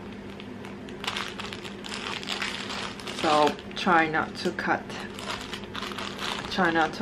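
Close crinkling and rustling of parcel packaging, with a few crisp scissor snips and crackles, while someone talks over it.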